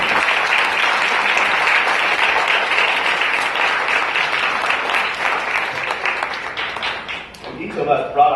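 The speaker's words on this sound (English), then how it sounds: "So if we can give them an applause for being one of the originals." A gala audience gives sustained, dense applause that fills the room at a loud, steady level, fading near the end as a voice begins to speak.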